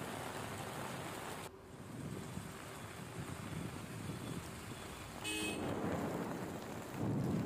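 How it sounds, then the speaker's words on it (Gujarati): Heavy rain pours down in Khambhalia, Dwarka, during a storm with lightning and strong wind, a steady dense hiss, with a passing car and a brief horn toot. "ખંભાળિયા પંથકમાં પણ ધોધમાર વરસાદ વરસ્યો"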